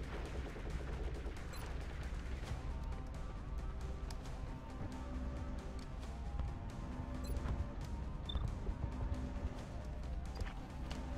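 Rapid-fire gunshots in the video game XCOM: Long War crackle in quick, repeated bursts, fairly faint and steady over a busy game soundscape.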